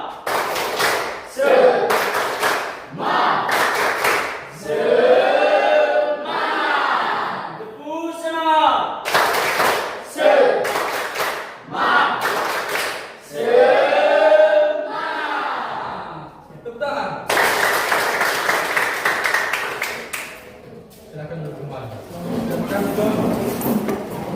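A standing classroom group claps in short rhythmic bursts of a spirit clap, loud and close, trading off with a teacher's lively spoken and sung cues between the clap sequences.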